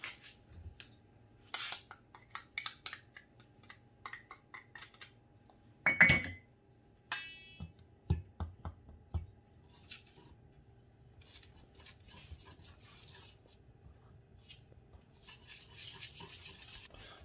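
Crepe batter being whisked in a bowl, with scattered clinks and stirring scrapes of the whisk against the bowl coming in irregular bursts, faint and close, with no talking.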